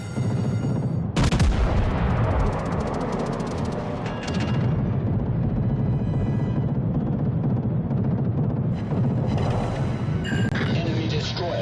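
Heavy naval gun salvos from the battleship HMS Queen Mary in World of Warships Legends, a loud booming blast followed by further rumbling shots and crashes over continuous engine and sea noise, with brief game voice lines.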